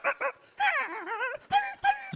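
A voice imitates a stray street dog whimpering, with short yelps, a long wavering whine, then two more sharp whimpers, close and clear with no other talk.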